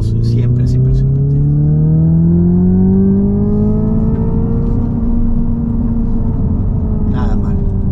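A 2025 Hyundai Ioniq 5 N accelerating hard from a standstill to 60 mph, with a loud continuous electric whine climbing steadily in pitch over road rumble, heard from inside the car.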